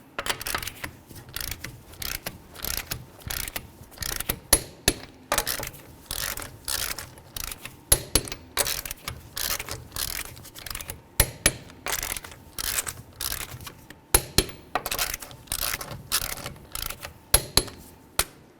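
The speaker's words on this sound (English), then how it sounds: "we're going to go ahead and torque these to 80 foot-pounds in a star pattern" Torque wrench tightening the wheel lug nuts on a 2010–2015 Kia Sorento to 80 foot-pounds in a star pattern, a steady run of sharp ratcheting clicks in quick repeated bursts, close and alone.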